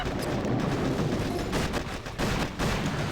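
Repeated heavy cannon blasts from the Doom Cannon in the game Bullit against the world, dense rumbling booms overlapping continuously with brief dips, loud and close, no voices.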